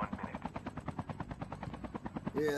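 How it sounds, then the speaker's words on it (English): Rapid rhythmic thumping of helicopter rotor blades in the video game COD Mobile, steady and close, with a brief burst of other sound at the very end. "we got two helicopters now"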